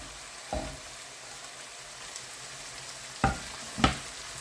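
Minced meat and carrot stirred together in a frying pan, a quiet steady sizzle with three distinct scraping knocks of the utensil, one early and two near the end.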